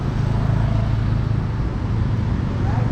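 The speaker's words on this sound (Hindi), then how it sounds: "तो अब निकल रही भाई गाड़ी" A car pulls out and drives off, its engine a steady, close, low rumble that holds evenly throughout with no clear change in pace.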